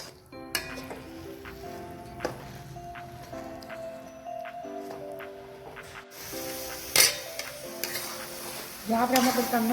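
A thick date mixture for khajur pak is stirred in a pan, with sticky scraping strokes and clicks of the spoon over a light sizzle, ending in a burst of louder frying.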